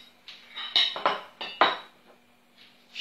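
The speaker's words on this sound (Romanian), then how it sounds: "am să scot o lingură, două de frișcă, pentru cine dorește cu frișcă" A metal spoon scoops whipped cream out of a container, making several close, bright clinks and scrapes against the sides in an uneven rhythm, then a soft final tap.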